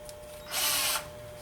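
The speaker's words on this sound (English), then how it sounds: "If I take a piece of wood and drill the hole through it" A power drill bores a hole through a piece of wood while a star ornament is being made: one short, loud, whining burst of roughly half a second, close up, with no talk over it.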